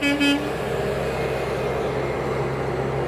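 A truck pulls away from a garden center with a short double toot of its horn at the start, then a steady low engine rumble that carries on alone.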